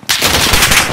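A burst of rapid automatic gunfire in a shooter video game, loud and close, rattling steadily for about a second with no voices.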